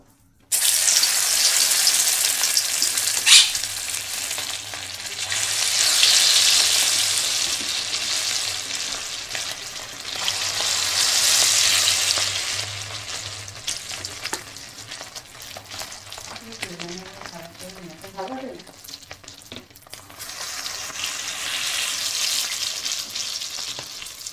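Loud, steady sizzling of chicken pieces frying in hot oil in a wok, swelling in waves, with occasional clinks and stirring.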